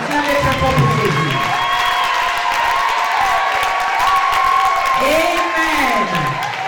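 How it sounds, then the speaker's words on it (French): Women in a church congregation cheer loudly, with high shrill ululating whoops rising and falling over scattered clapping. A steady crowd roar runs underneath, loud and close, and a nearby voice talks along with them. "Les femmes acclament très fort."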